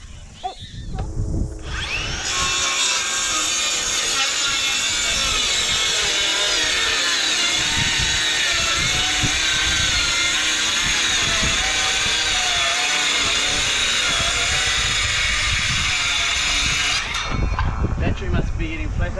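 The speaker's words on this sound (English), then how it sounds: "I tried drilling in with my drill on a bit of wood" Electric drill with a weakening battery grinds into a piece of wood while flooring a feedout wagon, a sustained high whine for about fifteen seconds after a short start, with brief voices at either end.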